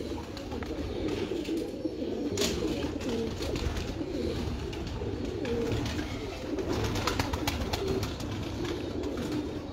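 Pigeons coo repeatedly in soft, rolling phrases, close by, with a faint background hum and occasional rustling.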